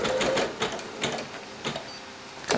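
A Singer Legacy SE-300 embroidery machine stitches an appliqué, making a quiet run of rapid mechanical needle ticks and whirring bursts that repeat at roughly even intervals.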